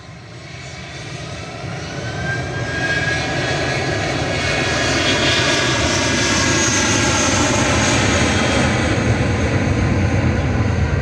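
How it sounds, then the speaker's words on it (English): A Lufthansa airliner touching down at Manchester Airport builds from a loud roar into a sustained, heavy, whining engine noise that holds steady to the end, with no voices. "Lufthansa's just touched down"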